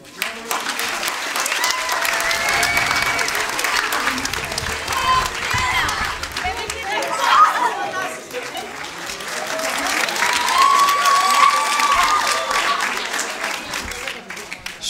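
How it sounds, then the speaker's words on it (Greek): Audience applause for children at a school or community event swells and surges in waves, sustained clapping from a large crowd with scattered whistles and indistinct voices mixed in. "Χειροκροτήστε τα παιδιά που θα λένε τα ονόματά τους."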